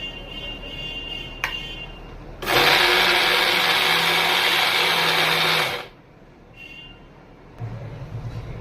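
An electric blender whirs loudly for about three seconds, grinding mango pulp, curd and sugar into a paste, starting and stopping abruptly amid quieter kitchen background.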